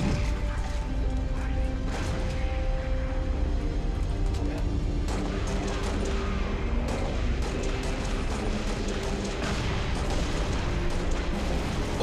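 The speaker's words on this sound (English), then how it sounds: "Little tertiary explosion." Grenade launcher blasts and chaotic combat in Halo: Reach, with repeated booms and crashes over a constant dense game soundscape of firing and impacts.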